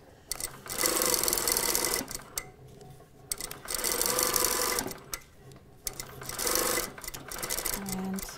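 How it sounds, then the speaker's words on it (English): A sewing machine stitches a skirt seam in three loud, close bursts of rapid mechanical whirring, each a couple of seconds long, separated by short pauses with light handling noises. "we're stitching this all the way down"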